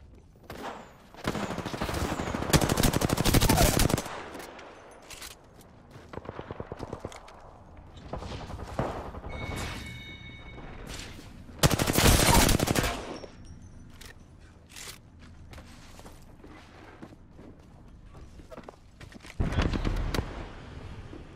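Volt SMG gunfire in the Apex Legends video game, rapid automatic bursts repeating in several loud clusters with quieter game sounds between them.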